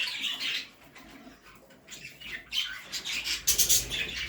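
Jumbo budgerigars chirp and squawk in a pet shop, a busy flock of close, bright, overlapping calls rising in bursts with a flutter of wings, with no talk.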